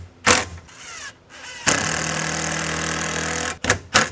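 A power driver runs sheetrock screws into a truck bed slider, with short whirring bursts followed by one long sustained drive of about two seconds and brief final bumps, close and loud with no talk.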